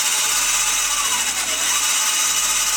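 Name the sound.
72V electric mini bike tow winch motor running at half throttle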